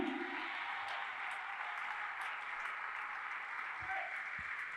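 Church congregation applauding to acclaim Jesus: steady, sustained clapping from a crowd, moderately distant, with a voice briefly heard over it at the start and near the end.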